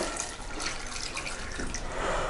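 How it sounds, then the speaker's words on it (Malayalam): Water poured from a vessel into a cooking pot on the stove over cut koorka (Chinese potatoes) for a Kerala-style stir-fry, heard as a steady, close splashing wash with no talking. "ആവശ്യത്തിന് വെള്ളം ഒഴിക്കാം."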